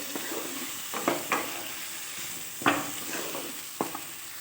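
Potatoes stir-fried with spices in a pan, a soft continuous sizzle broken by a few sharp scrapes and knocks of the spoon against the pan. No talk is heard.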